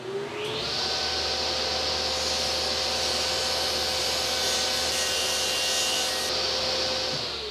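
Table saw ripping a thin strip off the edge of a wooden cleat for a crosscut sled, a steady loud whine as the blade spins up and cuts through the wood, then winds down, heard close and alone.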